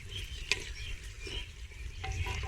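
Ginger and garlic paste fries in a pan for a green chickpea curry, giving a steady soft sizzle with a sharp scrape of stirring near the start and more scraping toward the end, with no talking.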